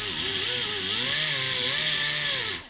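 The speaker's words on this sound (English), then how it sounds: "I like to sand this edge here just to make sure that it's really nice and smooth" A Roloc sanding wheel grinds along the edge of a rust-worn brake rotor, a loud, steady abrasive whine with a wavering motor pitch lasting a couple of seconds before stopping; no talking.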